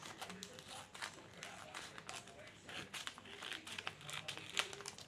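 Paper being cut and handled for a handmade scrapbook-style Father's Day card: soft, irregular snips and crinkles up close, fairly quiet, with faint speech-like murmur in the background.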